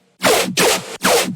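Dubstep front chug bass synth plays three heavy, distorted, gritty bursts in a quick choppy rhythm, loud and up front with no other sounds.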